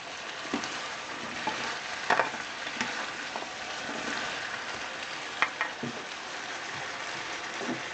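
Vegetables for pinakbet sizzle steadily in a pan while being stirred, a soft continuous frying crackle broken by occasional clicks and scrapes of a utensil, fairly quiet and close.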